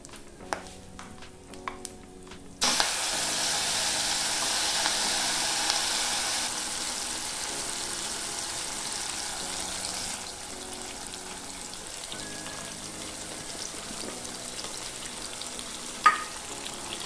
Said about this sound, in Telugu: ఇప్పుడు మనం ఇందులోకి నూరి పెట్టుకున్న ఈ వంకాయ పచ్చడిని వేసుకుందాం